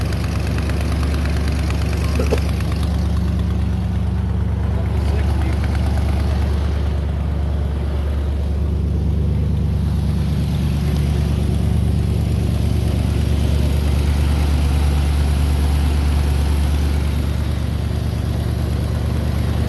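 A 1969 Buick Skylark GS engine idles steadily and evenly, a close, continuous low rumble that runs without breaks for the whole stretch with no talk over it.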